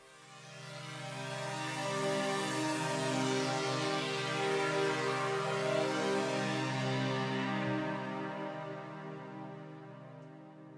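Funky Alchemy synthesizer preset in Logic Pro plays a sustained, harmonically rich chord pad that swells in, holds steadily for about ten seconds and fades slightly at the end, with no voices.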